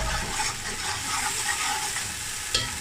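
Food sizzles in a hot pan with ginger-garlic paste for chana pulao while a utensil scrapes and stirs through it, a steady close frying sound with one sharper clink.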